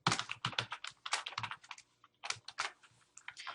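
Keys clatter on a computer keyboard as a new password is typed, a quick uneven run of close, crisp taps with a brief pause midway.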